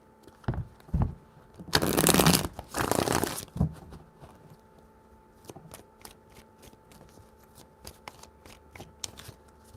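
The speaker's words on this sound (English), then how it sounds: "Three shuffles." Tarot cards shuffled by hand in two quick, close bursts of riffling, followed by scattered soft taps and clicks as the deck is handled, with no talking.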